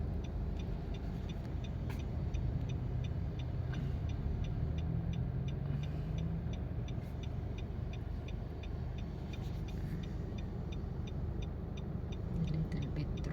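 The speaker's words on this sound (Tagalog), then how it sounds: "Little bit traffic naman." Steady road traffic in Cagayan de Oro city, cars and engines rumbling and passing continuously at moderate distance, a dense unbroken wash of vehicle noise with no talking.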